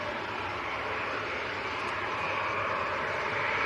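A Maltese-registered, ten-year-old Ryanair Boeing 737-800 bound for Madrid at Manchester Airport gives a loud, steady, dense jet engine roar from start to finish, with no voices.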